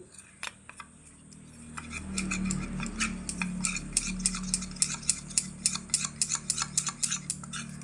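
Two spoons of flour and four spoons of white oil mixed in a bowl, a few clinks giving way to rapid, rhythmic spoon taps and scrapes against the bowl, close and steady.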